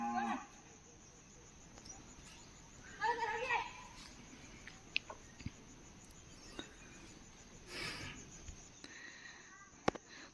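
A cow moos once, low and fairly distant, near a village well beside a rural road, over a quiet outdoor bed of insect chirps and occasional small knocks.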